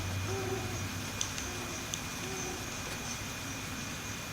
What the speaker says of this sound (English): I don't remember ever hearing owls.